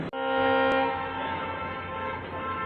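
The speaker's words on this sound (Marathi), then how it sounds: "ट्रेनने स्टेशन सोडण्याची विसल दिलेली आहे" A long train horn blows at a station as a Jaipur to Bhopal train prepares to depart, one sustained, loud, harmonic blast that holds for the whole stretch, with no talk.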